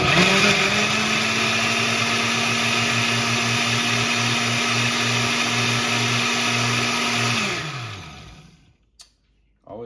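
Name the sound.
blender blending cayenne, cherry tomato and garlic hot sauce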